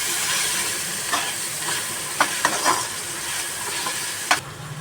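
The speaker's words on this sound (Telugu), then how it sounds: "ఇప్పుడు బాగా కలుపుకోవాలండి బ్రౌన్ కలర్ వచ్చే వరకు" Ingredients stirred and fried in a pan until brown: a constant loud sizzle fills the sound, broken by a few sharp scrapes of the spoon against the pan, with no voices.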